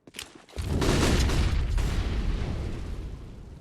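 Grenade explosions during a professional Counter-Strike match on the Dust2 map: a sharp pop, then a loud booming blast with a long rumbling decay lasting several seconds.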